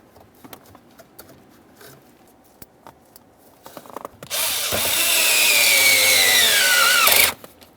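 A power tool snugs a 5.5mm bolt on the steering column of a 2001-2005 Ford Explorer Sport Trac. A few light clicks come first, then a close, loud whirring burst lasts about three seconds, its pitch rising before it cuts off.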